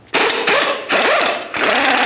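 A wrench works on a 21mm bolt on a 2006-2010 Ford Explorer rear strut, heard as loud close bursts of whirring, rising and falling mechanical grinding in three quick runs separated by brief pauses.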